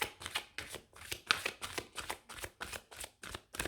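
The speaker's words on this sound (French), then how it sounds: "Je vais aller remettre des cartes." Tarot cards are shuffled in quick, rhythmic riffles, a dozen soft bursts of papery flutter at a close, quiet level with no one talking.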